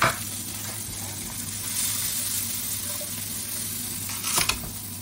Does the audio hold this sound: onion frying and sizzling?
yes